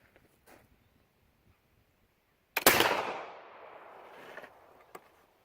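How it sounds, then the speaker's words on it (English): A flintlock muzzle-loading rifle fires once, a sudden loud crack followed by a long booming decay, with faint handling sounds before and a small click afterward. "So we bring it to half cock, close our frizzen, bring it to full cock, and we should be ready to shoot."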